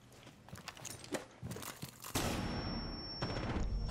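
A flashbang detonates in Rainbow Six Siege gameplay, a sudden loud burst followed by a sustained ringing whine, after a run of quieter clattering footsteps and impacts.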